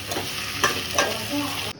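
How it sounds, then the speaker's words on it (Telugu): Steady close sizzling of seeds frying in a pan, with a couple of soft stirring scrapes, continuous and fairly loud. "నువ్వులు వేసి ఒక 5 minutes ఫ్రై చేసుకొని"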